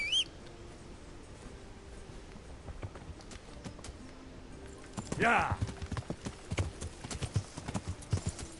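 Horse hooves clip-clop in the Kingdom Come video game, a steady rhythm under ambient game sound that grows louder and quicker about halfway through as someone shouts over it.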